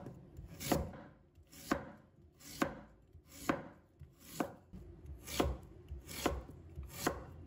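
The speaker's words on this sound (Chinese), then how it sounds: "洗净后，把它切成薄片" Knife slicing peeled, washed sweet potato into thin pieces on a cutting board, eight crisp, evenly spaced chops close by with no talk.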